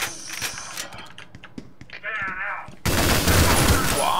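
Weapon fire in the retro shooter Ion Fury by 3D Realms, with scattered shots and game sounds at first, then a loud sustained burst of gunfire filling the last second and a half.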